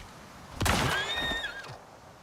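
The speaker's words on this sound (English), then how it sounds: "Oh, there's a horse." A horse in the video game Icarus gives a single loud, close whinny that rises and wavers for about a second, with faint hoof-like thuds underneath.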